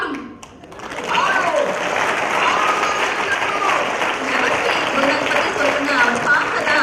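Sustained applause from a large audience at a national-level student debate grand finale, a dense wash of clapping that starts after a brief pause and continues steadily throughout.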